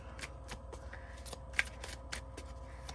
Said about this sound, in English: Sometimes I can feel when I'm shuffling which one is the right one to come out